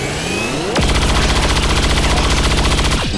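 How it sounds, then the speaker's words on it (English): A soldier's rifle burst in XCOM, a rapid, evenly spaced stream of loud gunshots lasting over two seconds, preceded by a rising mechanical whine and ending with a falling sweep, with no speech. "she'll go ahead and open fire"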